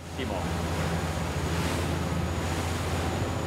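Steady rush of waves and wind noise around a moving Baglietto MV 19 yacht, with a low engine drone underneath, continuous and fairly loud throughout.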